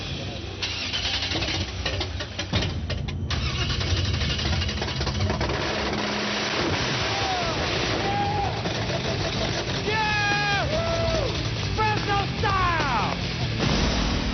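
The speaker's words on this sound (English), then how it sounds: "Shinbone Alley is finally ready to fire up their engine" A car engine fires up in a garage during a build competition, cranking then catching into a loud rough idle and revving, with shouting voices and squealing sounds over it throughout.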